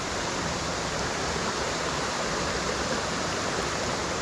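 Steady broadband rush of water tumbling down a waterfall on a walk near Askrigg, dense and constant throughout, close and loud with no breaks.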